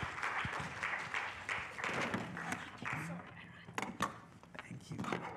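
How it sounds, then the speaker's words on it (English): Audience in a lecture hall gives scattered, uneven applause, individual claps and thumps audible with some chatter and movement, fading into sparse taps and room noise. "Everyone give a round of applause."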